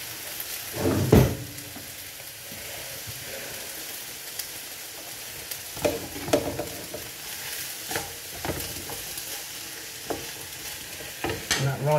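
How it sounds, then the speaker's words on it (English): Paella rice being stirred in a pan: soft sizzling runs throughout, broken by scraping strokes of a utensil against the pan, with one louder clatter early on and scattered scrapes after. "Now I'm going to stir it."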